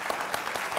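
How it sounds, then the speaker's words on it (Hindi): A quick burst of hand clapping, several dense claps in under a second, sounds close and moderately loud. "चलिए मैं आपके लिए ताली बजाता हूँ"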